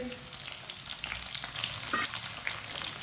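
Finely chopped tomatoes and lightly browned garlic fry in a pan, a close, steady sizzle broken by soft scrapes and clicks as a spoon stirs them, with no voice.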